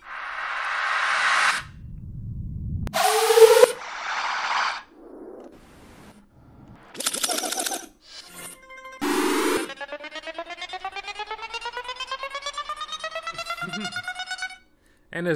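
Transition effect sounds from a hip-hop drum kit: swooshes, noisy risers, zaps and a long rising tonal sweep, played one after another with gaps between them.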